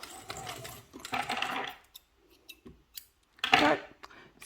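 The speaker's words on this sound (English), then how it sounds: "I am top stitching this side." A sewing machine top stitches a crescent-shaped bag in short runs of rapid mechanical whirring, stopping and starting with small clicks in the pauses.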